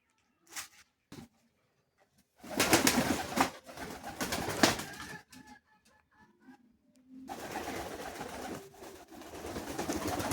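Pigeons coo at a village bird market, in uneven bursts over a few seconds and then as a steadier stretch, mixed with rustling and bustle close to the microphone.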